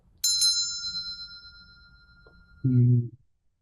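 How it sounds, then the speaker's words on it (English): A single bell struck once, ringing bright and clear with a long resonance that slowly fades toward silence, followed by a short low thud near the end. "a bell that has this long cadence that"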